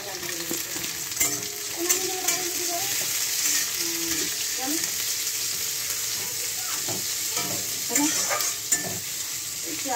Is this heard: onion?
yes